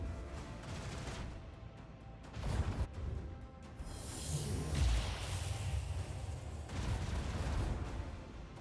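Murder class cruiser cannons fire in a Warhammer 40,000: Rogue Trader space battle. Heavy booms and rushing blasts come in several bursts over a steady low rumble.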